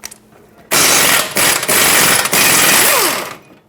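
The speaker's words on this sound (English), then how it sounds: "To remove the caliper bracket, we have 2 21mm bolts. Let's get those off." On a 2014-2018 GMC Terrain front brake job, a ratchet loosens the two tight, factory-threadlocked 21mm caliper bracket bolts. It makes loud, rapid, continuous clicking, close up, broken by a couple of brief pauses.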